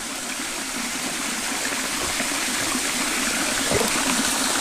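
Waterfall stream in Kada Forest rushing and splashing in a steady, continuous roar that holds at an even level throughout, with no voices.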